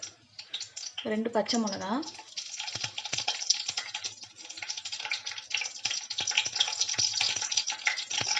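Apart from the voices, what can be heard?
whole spices and green chillies frying in hot oil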